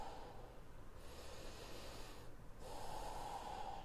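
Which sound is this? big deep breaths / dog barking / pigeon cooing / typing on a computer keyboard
big deep breaths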